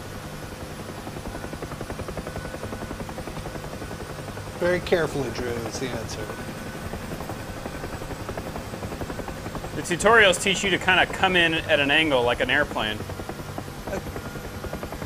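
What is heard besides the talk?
UH-1H Huey helicopter in video game Digital Combat Simulator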